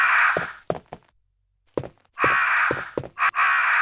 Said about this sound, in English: there are crows in this room